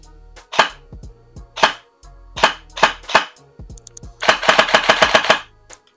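Double Eagle x Noveske airsoft rifle firing: a few spaced single semi-auto shots, sharp and close, then a rapid full-auto burst of about ten shots near the end.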